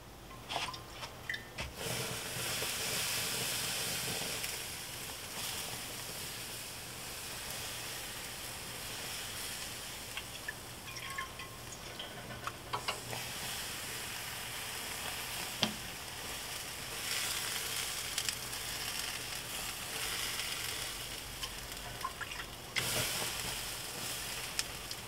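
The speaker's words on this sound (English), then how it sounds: "Let all that nice mop hit those coals. Let them steam." Rib mop liquid hitting hot barbecue coals, a loud continuous steaming sizzle and hiss that runs close and unbroken for a long stretch, with a few crackles and brief surges.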